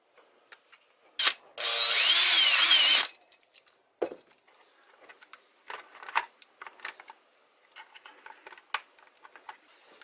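A power drill boring a small hole in a board enclosure, one short loud whirring burst of about a second and a half, followed by scattered light knocks and handling clicks nearby.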